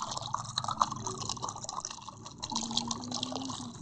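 Green paint pours in the Colour War 3D video game, heard as liquid gurgling, dripping and splashing effects in quick scattered bursts over a faint synthetic background.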